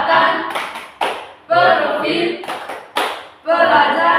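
A school student group claps a rhythmic chant in bursts, loud and close, with sharp claps alternating with shouted chanting voices in a repeating pattern.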